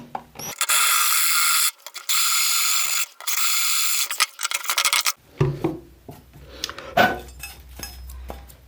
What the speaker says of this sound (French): un bon foret et ça se perce tout seul